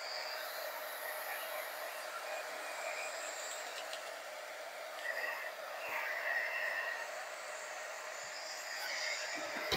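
A hair dryer blowing on paint on a craft broom gives a steady, faint airy whoosh that runs on without a break.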